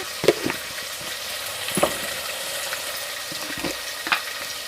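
Turmeric, chili and salt go into a frying pan, where a steady soft sizzle runs underneath several sharp scraping and clinking knocks from stirring, spaced irregularly across the few seconds.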